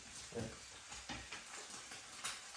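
An egg frying in a pan gives a faint, steady sizzle, with a few soft scrapes and taps as a spatula flips it. No talking is heard.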